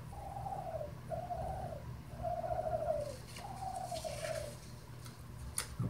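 A voice imitates a mourning dove, giving four soft, low cooing phrases in a steady rhythm over a constant background hum.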